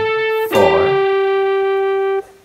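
Electric guitar plays part of a song: one picked note with a bright, effected tone sounds near and loud, rings for about two seconds, then cuts off.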